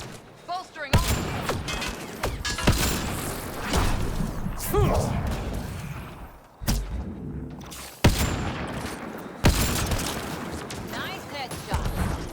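Gunfire in the sci-fi shooter Mass Effect Andromeda, set at a Kett labor camp, cracks in sharp repeated shots and bursts with booming impacts, loud and busy over game effects, with voices under the fighting.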